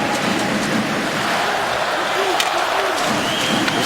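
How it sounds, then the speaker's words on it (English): A packed hockey arena crowd at a San Jose Sharks home game against the Vancouver Canucks keeps up a steady, loud, broad roar of cheering and noise throughout. "This crowd trying to get the Sharks pumped up as best they can."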